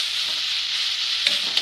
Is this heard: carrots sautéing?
yes